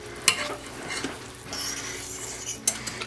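Blue cheese is stirred into a pan sauce, with soft sizzling under scraping strokes and two sharp clinks of a utensil against the pan, heard close and with no talking.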